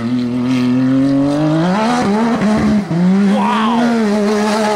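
Can-Am Maverick R side-by-side, a 350 hp Evo Stage 5 tuned machine with launch control, its engine revving loud and close, rising and falling in pitch with raspy, aggressive tone.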